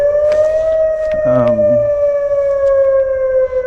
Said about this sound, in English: That's just the tornado siren because it's Wednesday.